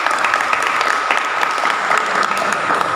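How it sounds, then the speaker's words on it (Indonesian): A university classroom of students applauds a presenting group, brisk close clapping from many hands held at a steady level for the whole stretch. "Ya wes, tepuk tangan untuk kelompok 3."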